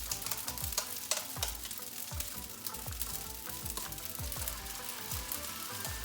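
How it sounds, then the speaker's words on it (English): Noodles sizzling and crackling in butter in a pan, a steady close frying hiss with small pops and repeated scraping stirs throughout, no voices. "you can hear those noodles starting to crackle and pop and sizzle"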